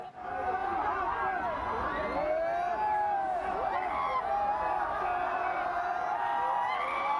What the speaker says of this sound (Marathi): आपण बघतोय प्रचंड मोठी गर्दी झाली आहे